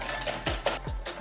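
A whisk clinks against a bowl while eggs and sugar are beaten together for a chocolate fondant, with a few quick, light metallic taps close by, alone and fairly quiet.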